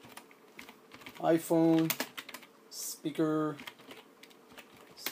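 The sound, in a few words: typing a search on a computer keyboard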